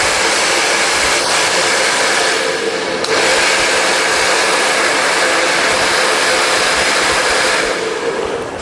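A hair dryer blows hair forward during an in-turn blow dry for a razor or feather haircut, giving a loud, steady, close roar that runs the whole time with no voices.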